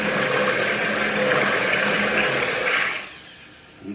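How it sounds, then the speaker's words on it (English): Arctic white pottery glaze, a mix of chemicals in water, is stirred in a container, making a continuous loud watery swishing for about three seconds before it stops, leaving quiet room tone. "we need to give it a little mix to make sure it's nicely mixed up."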